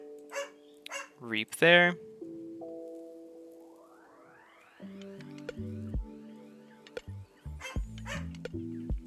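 A pet dog barks in a few short, loud bursts in the background at home during an online KeyForge card game match, alongside talk and game sounds.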